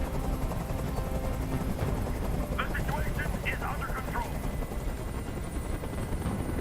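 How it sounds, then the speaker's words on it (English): A helicopter drones on in the video game Detroit: Become Human. The rotor noise is a constant, heavy rumble under game sounds, with a brief burst of higher chatter partway through. "Tell that helicopter to get out of here."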